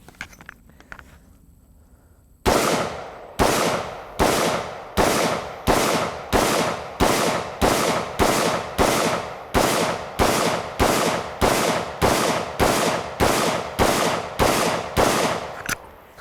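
A Spikes Tactical 5.56 rifle fires green tip ammunition at an outdoor range, a long string of about twenty loud, sharp shots at an even, rapid pace, each cracking close and ringing out before the next.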